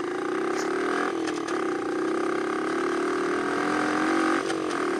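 A fuel-injected motorcycle engine hums steadily, then rises in pitch through short shifts, the drone dipping briefly at each gear change before climbing again.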